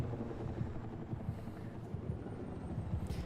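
A helicopter in the video game Battlefield 6 gives a faint, steady rotor chop with a low, rapid pulsing throughout and no voices.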